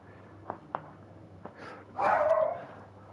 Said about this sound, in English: Sorry for the dog in the background, friends.